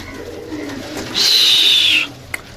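A single soft pigeon coo from a young pigeon rises briefly and fades, close by, with a faint rustle and a small click afterward.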